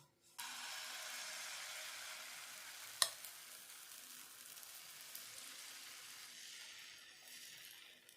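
Wheat flour batter hits an oiled hot tawa and settles into a steady close hiss, with one sharp metallic clink partway through, then the sizzle gradually softens, with no voices.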